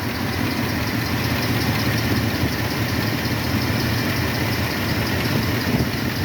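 A 1976 Ford F150 engine idles steadily while its carburetor idle mixture is being adjusted, a continuous close, loud mechanical drone with no talking.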